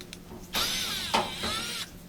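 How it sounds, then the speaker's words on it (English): A power driver spins out two Phillips head screws from the cabinet frame of an LG electric dryer, giving two short, close whirring bursts separated by a brief pause, with no talking. "So zipping out these two Phillips head screws"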